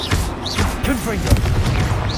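A Confringo fire spell blasts in Hogwarts Legacy, a booming, fiery explosion with a heavy thump around the middle amid dense spellcasting combat noise, with voices calling out over it.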